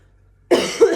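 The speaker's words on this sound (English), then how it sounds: "Sorry about the cough." A single close, loud human cough, two quick bursts after a half second of silence.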